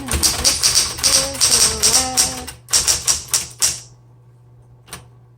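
Rapid, uneven keystrokes clatter up close on a 1960s Smith Corona Electra 110 electric typewriter, a dense burst of typing that stops abruptly, followed by near silence and one last faint tap.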